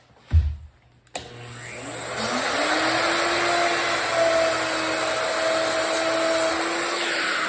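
Electric router spinning up with a sharp click, then a steady loud whine with a rising tone as it cuts scribed wood paneling in a DIY truck camper build, the motor drone held continuously near the mic.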